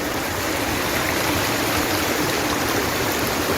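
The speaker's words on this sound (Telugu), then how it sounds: "మీరు ఈ వాటర్ అయితే ఫ్లో అవ్వడం అయితే చూస్తున్నారు కదా" A cold mountain stream in Turtuk, Ladakh rushes steadily and loudly, a continuous broadband wash of flowing water close by with no pauses or voices.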